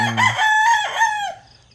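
A fighting rooster crows once, loud and close, its call rising and then trailing off alone.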